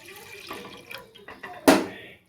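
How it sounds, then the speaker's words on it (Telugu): A glassful of water is tipped into a bowl of moong dal for a sweet dish, giving a short splashy pour with a brief trickle before and a louder gush near the end. "అదే గ్లాస్తోని గ్లాసుడు వాటర్ మాత్రమే వేస్తాను"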